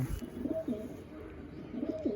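Madrasi pigeons coo softly nearby in a few low, rolling calls, repeated twice over a quiet background hum.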